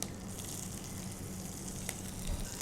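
Finely chopped green chillies sizzle in hot tempering oil with cumin, chana dal, urad dal and curry leaves, a continuous close crackling fry with no voices.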